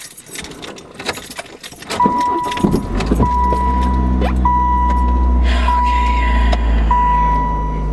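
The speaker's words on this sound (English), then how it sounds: "So just start the car" Keys jangle, then a car engine cranks and catches, settling into a steady low idle rumble while a repeating electronic warning chime sounds over it.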